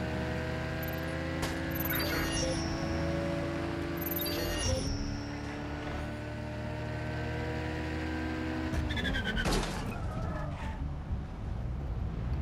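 Car engine droning and shifting pitch with tire and mechanical noise as a vehicle drifts in Watch Dogs Legion, steady and fairly loud throughout with a couple of revving changes.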